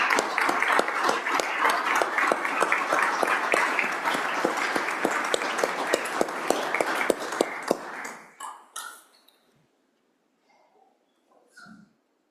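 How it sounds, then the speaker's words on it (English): Legislators in the Wyoming House chamber give a sustained round of applause, dense and loud with crisp individual claps, which thins out and fades into scattered last claps and quiet room noise. "So let's give her a round of applause."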